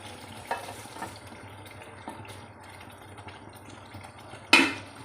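Koftas drop into a pan of frying kadhi curry, a soft steady sizzle under a few light clinks and taps of a spoon, with a sharper splash-like burst near the end.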